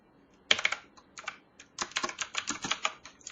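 Code being typed on a computer keyboard while writing R for DataFrames, a quick, irregular run of close, crisp key clicks in short bursts, with no talking.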